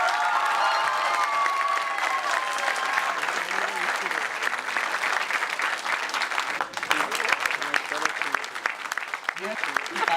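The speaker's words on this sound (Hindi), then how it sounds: "तालियों की गड़गड़ाहट ये बता रही हो शानदार पेशकश" Audience applause after a stage performance of the play Godaan, sustained dense clapping that carries on throughout, with some cheering and voices mixed into the crowd noise.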